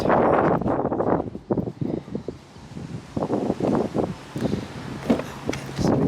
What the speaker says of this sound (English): sorry it's really windy today in the UK